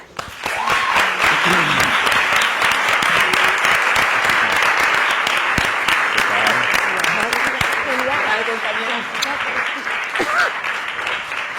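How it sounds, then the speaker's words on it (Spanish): Warm, loud applause from an audience at an acting school event welcomes an actor, starting abruptly and holding steady before tapering slightly, with voices talking over the clapping toward the end. "vamos a dar un fuerte aplauso a Roberto Enríquez"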